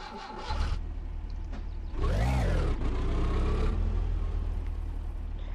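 Old car engine in the driving game My Summer Car roars to life with a rising, then falling rev, followed by a steady low rumble that carries on alone with no voices.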